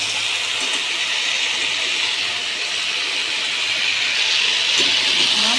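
Malabar spinach sizzling in hot oil in a pan, a steady loud hiss of frying that holds evenly throughout with no talk over it.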